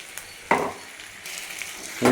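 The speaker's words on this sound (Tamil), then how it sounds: "இப்போ இதை நல்லா வதக்க வேண்டியதுதான்" A soaked nine-grain mix with vegetables is sautéed in a pan under a low hiss, with a few loud spatula scrapes and stirring bursts, close and without talk.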